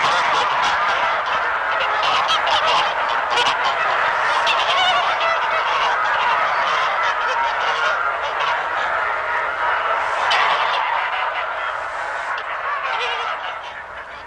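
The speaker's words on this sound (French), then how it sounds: "Il a donc entendu ces cris d'oie" Geese honking in a dense, continuous flock chorus, overlapping calls and gobble-like cries sustained loudly throughout before fading slightly at the end.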